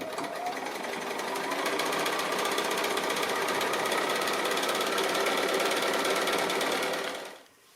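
A domestic sewing machine quilting layers of fabric, stitching close to the edge, runs steadily and loudly for about seven seconds with a fast even whir, then stops abruptly.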